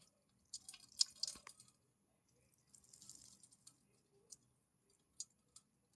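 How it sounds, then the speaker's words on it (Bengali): Ripe palm fruit pulp squeezed by hand, giving soft wet squishes and faint drips in short scattered bursts, close and quiet, with no talking. "এইভাবে আমি পুরোটা তালের রসটা নিংড়ে নেব"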